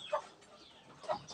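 A black mother hen nesting with newly hatched chicks clucks twice, short close throaty calls about a second apart, with quiet between.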